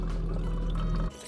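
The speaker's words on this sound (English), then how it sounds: "I love having that coffee maker." Coffee streams from a coffee maker at a car campsite by a river, a close steady pour that runs for about a second before cutting off abruptly.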